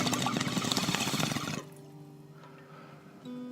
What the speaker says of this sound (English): you're hearing all the lovely noises of a bong there